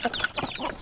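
An aseel rooster clucks while eating in short, close bursts, a quick run of chicken sounds lasting under a second.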